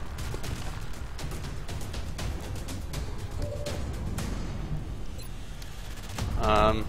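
Rapid bursts of gunfire in the strategy game XCOM: Long War, a steady crackling volley of repeated shots at moderate loudness that swells into a heavier burst near the end, with no one talking.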